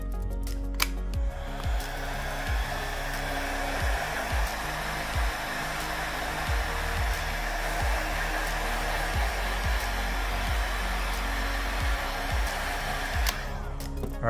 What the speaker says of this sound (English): Blow a little bit of heat.